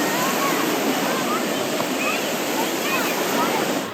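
A wave pool at an outdoor water park makes a steady, loud wash of surging water and crashing waves. The noise is broad and continuous, with faint voices under it.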